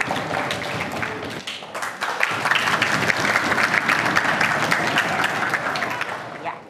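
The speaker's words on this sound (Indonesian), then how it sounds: "kita berikan tepuk tangan sekali lagi" Crowd at an award ceremony for a chant-and-cheer contest applauding, sustained dense clapping with a few sharper claps, loud and close, with some voices mixed in.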